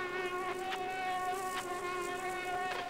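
A giant mosquito in the game Limbo buzzes as a steady, close, high-pitched whine that swells slightly in pulses, with no voices.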